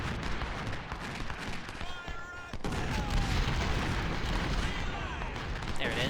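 Guns and artillery open up in a flanking attack during a tactical video game battle, a dense continuous roar of volleys and booms with a brief lull midway, loud throughout.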